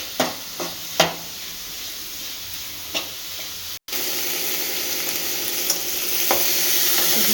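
Masala frying in oil for paneer butter masala, with a steady sizzle running throughout and a few sharp spoon scrapes and taps against the pan, a brief dropout midway, no talking.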